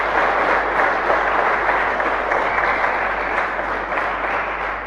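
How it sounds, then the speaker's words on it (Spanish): Sustained applause from a congregation at a live Mass in the Capilla San Roque chapel in San Lorenzo, a dense, steady patter of many hands clapping close by for several seconds without pause. "Un aplauso para ellos también."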